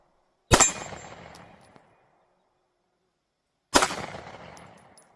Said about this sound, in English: I'm just going to put the dot on the target and pull the trigger nice and slow